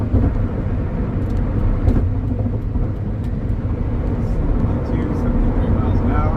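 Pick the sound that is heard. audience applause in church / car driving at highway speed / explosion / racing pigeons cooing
car driving at highway speed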